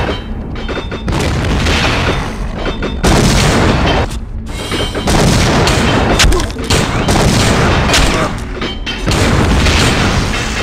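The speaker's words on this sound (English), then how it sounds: "Let's try some armor-piercing bullets on him." Armor-piercing bullets fired in the video game System Shock 2: loud, repeated booming shots in bursts with brief gaps between volleys, close and dominant throughout.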